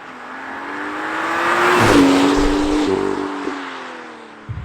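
A BMW M2 and a Ford Mustang GT sports car drive hard, their engine note climbing loudly as one accelerates toward and past, then settling into a steady drone with a brief rev near the end.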